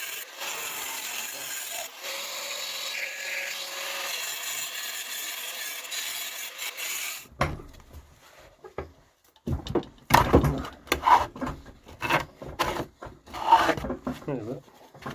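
A short piece of camper van exhaust pipe being cut, heard as a burst of irregular rasping sawing strokes, close and fairly loud, after a stretch of quiet background hiss.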